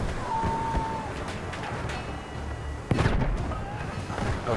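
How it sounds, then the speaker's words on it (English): Grenade explosions in the Battlefield 1 video game, a sharp burst landing amid a busy, rumbling battle mix of distant blasts and gunfire. "Fucking grenades everywhere."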